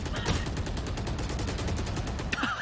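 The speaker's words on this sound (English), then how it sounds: "he's letting the bullets whiz by" Rapid automatic gunfire crackles in fast, evenly spaced bursts during a Valorant esports grand final match at Masters Bangkok, fairly quiet in the mix with a faint sweeping whiz near the end.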